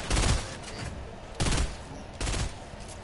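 Pistol gunshots in a PS4 video game, three close bursts of loud, sharp gunfire about a second apart, with no talk.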